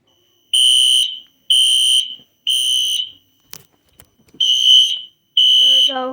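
A Wheelock NS fire alarm sounds indoors, loud and close, blaring in repeated horn-like bursts of about a second each, with a short gap of clicks and a brief chirping voice near the end.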